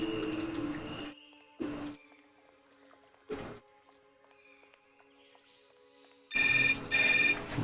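A cell phone rings in the Syberia adventure game, with electronic ring bursts at the start and again near the end, separated by short tones and quiet in-game ambience.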